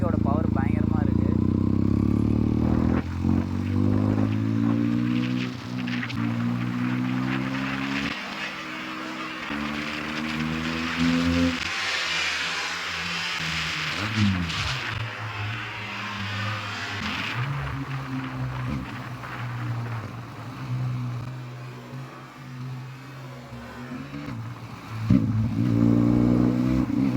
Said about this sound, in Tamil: எவ்வளோ ஸ்வீட்டாக இருக்குது பார்த்தீங்களா எக்ஸாஸ்ட் நோட்டு.